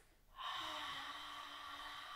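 A long, soft, breathy exhale from a postpartum breathing exercise rises abruptly after a brief pause and then holds as a steady airy hiss, quiet and close.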